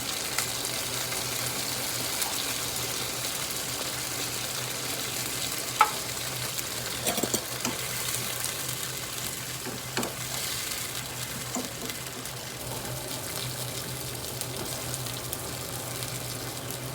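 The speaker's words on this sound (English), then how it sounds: "Pour a little bit of water to make the gravy." Water poured into a hot frying pan to make gravy for Jamaican tin bum hisses and sizzles steadily, with a few faint clinks and scrapes of stirring throughout.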